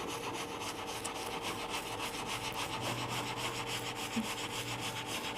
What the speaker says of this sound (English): a little scrubbing.